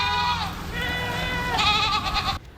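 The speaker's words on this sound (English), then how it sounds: "hundreds of goats are working to prevent wildfires near Denver" Goats grazing on dry vegetation near Denver, brought in for wildfire prevention, bleat in a steady overlapping chorus of wavering cries for a couple of seconds before cutting off abruptly.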